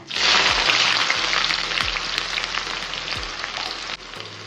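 Sliced shallots drop into hot oil with fennel seeds and burst into a loud, close sizzle that settles into a steady crackle, with a few low knocks of a utensil on the pan.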